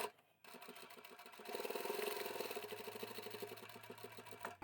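A sewing machine backstitches a small quarter-inch seam on a scrap-fabric mini coin pouch, starting after a short quiet moment and running in a steady, close mechanical whir with rapid needle chatter until the end.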